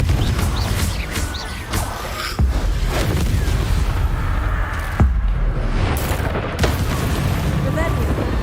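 A Confringo fire-blast spell explodes in Hogwarts Legacy amid dense, continuous combat noise, with repeated heavy blasts and sharp bursts layered over a roaring, rumbling background and a voice speaking.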